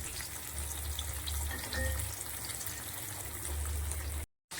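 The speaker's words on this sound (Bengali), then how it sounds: "প্রিয় বন্ধুরা, আমার মাছ ভাজা চলছে।" Fish fry in a pan with a faint, continuous hiss of sizzling oil and no talk; the sound cuts out briefly just before the end.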